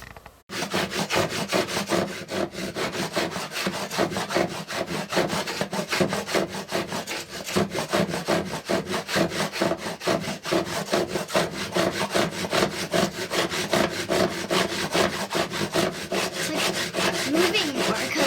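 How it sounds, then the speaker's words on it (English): A hand saw cuts through a wooden board held in a miter board, with steady, continuous back-and-forth rasping strokes that are close and loud and run on without any talk. "Let's cut it on the miter board."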